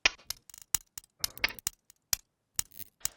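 A sound-pack sample chopped into a hi-hat pattern: a sparse, irregular run of crisp, bright clicks and ticks, some with a short scratchy tail, separated by silent gaps.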